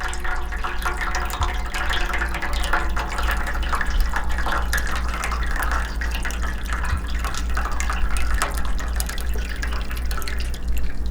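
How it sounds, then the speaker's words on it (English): Hot water pours into a pot, filling it to the rim, with a steady splashing and dripping stream that runs continuously for about eleven seconds, close and fairly loud with no talk. "Gonna fill it up to the rim or the lip end."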